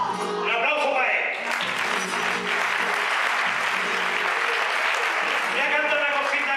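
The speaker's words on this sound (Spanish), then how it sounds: "¡Un aplauso para él!" Loud audience applause at a carnival comedy show, sustained clapping filling the whole stretch with a brief whoop and some voices over it near the start.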